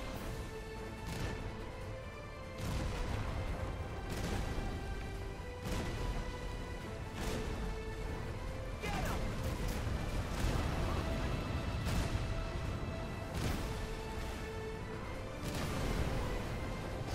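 Ship cannons in Kingdom Hearts III, a long series of heavy booms spaced every second or two over a dense rumbling battle bed, loud and continuous.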